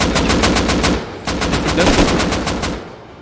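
Automatic gunfire from the video game Rust rattles in rapid bursts, a fast run of loud shots, a short pause near the middle, then another burst fading out at the end.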